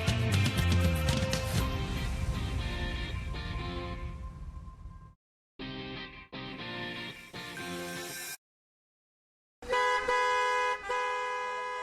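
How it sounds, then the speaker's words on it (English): Car horns honk in dense, slow Friday-evening traffic: sustained and overlapping toots, loud and close, broken by brief gaps of silence. "What a busy traffic on this Friday evening."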